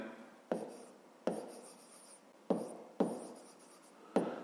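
Pen or pencil writes by hand on paper at close range in a quiet room, with scratchy strokes in about five short bursts, each starting with a soft tap.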